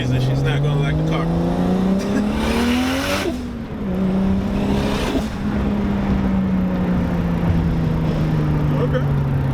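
A BMW E30 fitted with a 2JZ engine driven hard, its engine note droning and rising steadily with brief dips as gears change, while tyres hiss and squeal under a loud, continuous roar.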